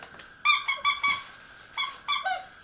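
A squeaky pet toy from a dollar store squeaks in short sharp bursts as a ferret plays with it, first a quick run of four squeaks, then a pause and two or three more, close and loud.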